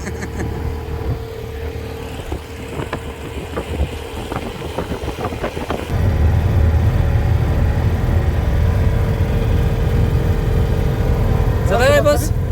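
A car drives at the Citroën test centre at La Ferté-Vidame with a steady engine and road rumble that grows louder and heavier halfway through as speed builds, while people talk inside the cabin.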